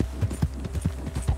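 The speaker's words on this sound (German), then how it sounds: "Ist ja eigentlich egal, ist ein Pferd." A white horse clip-clops at a walk in the video game Red Dead Redemption 2, with an even, close hoofbeat rhythm of roughly four to five steps and no talk.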